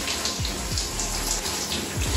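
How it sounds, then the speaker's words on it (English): Warm water runs steadily through starter micro locs during a wash day, a constant close rushing spray with faint splashes and no talking. "I can feel the warm, lukewarm water running through my hair"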